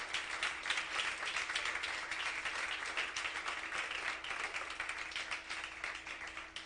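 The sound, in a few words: congregation applause in church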